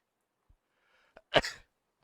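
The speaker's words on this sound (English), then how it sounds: "Sneeze like crazy." A single sharp sneeze bursts out after a brief intake of breath, close and fairly loud against near silence.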